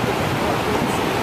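The Spokane River rushes in a steady, dense roar of fast water swollen by mountain snowmelt, loud and continuous throughout the short stretch with no talk.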